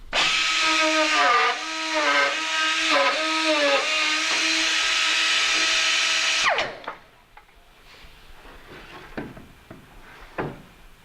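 A RUVO 505 Touch vertical prehung door machine drills and bores a door, whining loudly and steadily with rising and falling pitch for several seconds, then stops, followed by scattered clicks and knocks of machinery.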